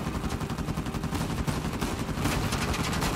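Sustained automatic machine gun fire in Uncharted 4, a dense, continuous rattle of rapid shots that holds loud and steady throughout, growing slightly heavier toward the end with no pauses or voices.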